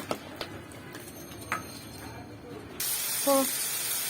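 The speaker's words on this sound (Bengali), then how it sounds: "ফোড়ন দেওয়ার জন্য আলাদা একটু পেঁয়াজ ভেজে নিচ্ছি।" Onions frying in hot oil for a Bengali tempering, a steady loud sizzling hiss that starts abruptly after a quieter stretch with a few faint taps and clinks.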